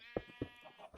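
Sheep or goats give a couple of short, faint bleats in quick succession, set against a steady tonal hum in a farm-themed city-building game.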